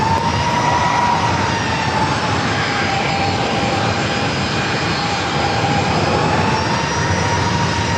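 An Alaska Airlines Boeing 737-800 jet taking off at San Diego airport, its engines a loud, sustained roar with a steady whine, continuous throughout with no voices.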